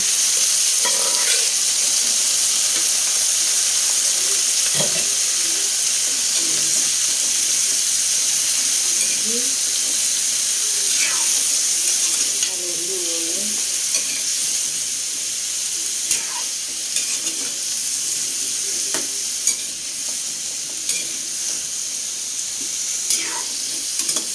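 Cubed pumpkin sizzles steadily in a hot pan, with occasional scraping and clinking as a spoon stirs it, a continuous hiss throughout and faint talk in the background.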